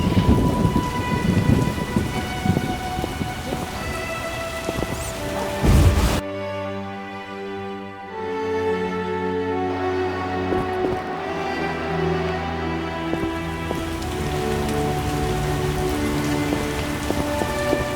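Torrential rain hisses steadily over a scene in The Witcher game while thunder rumbles low, with tonal game music blending in after the opening seconds; no one talks.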